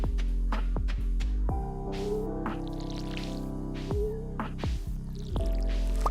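A watering can sprinkles crops in Stardew Valley, with repeated soft watery drips and splashes landing over steady, sustained background music tones.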